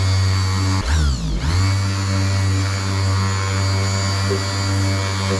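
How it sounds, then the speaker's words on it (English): A handheld orbital sander polishes a painted car panel in a garage, giving a loud, close, steady electric whine that briefly dips and wavers early on before settling into a constant drone. "once you get this orbital sander onto the panel, it doesn't feel as heavy"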